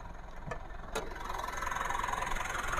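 A used Mitsubishi Pajero Sport Dakar engine idles with the hood open, a steady low hum that builds slightly and holds even, preceded by a couple of brief clicks or knocks.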